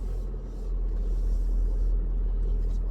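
A Thor Magnitude Super C RV motorhome on a Ford F550 chassis drives slowly, giving a steady low engine and road rumble from inside the cab. No voices are heard.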